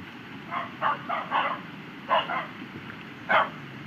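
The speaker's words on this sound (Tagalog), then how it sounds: "Gagalit sa amin yung dalawang aso." Two dogs barking at people arriving at a house in a rainy forest area, giving several short bursts of barks in clusters, moderately distant over a steady background hiss.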